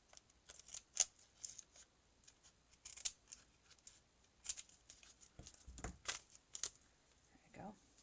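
Scissors trim a small piece of paper card in quiet, close snips and clicks spread irregularly, with light paper rustles between cuts.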